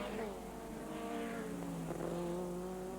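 Race cars lapping a circuit on the final lap of a Scottish Sports Clubman championship race, their engines droning and shifting pitch steadily at a middle distance beneath a commentator's voice.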